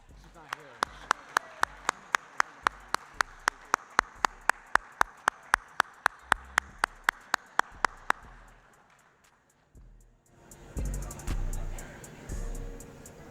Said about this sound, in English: Please give a big round of applause for our Scholar Athlete Award winner, Mackenzie Markham.